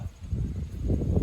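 Low, rumbling wind buffeting a microphone, steady and fairly loud with gusty swells, no voices.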